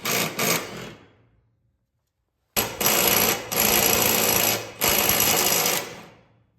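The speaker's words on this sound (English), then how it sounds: "So I like to just hit it with a little impact real quick." An impact wrench loosens the bolts on a lawn mower blade: two short, loud rattling bursts up close, a pause, then longer hammering runs.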